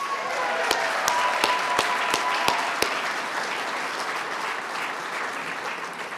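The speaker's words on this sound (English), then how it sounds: "How about a round of applause for Mark Wellington?" Crowd applause at a UNLV athletics hall of fame ceremony, steady dense clapping with a few louder individual claps near the start, continuing evenly throughout.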